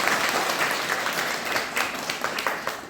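Students at a school assembly in Uttarkashi clap together for about three seconds, a dense, fairly loud patter of many hands that thins out slightly toward the end, with no voices.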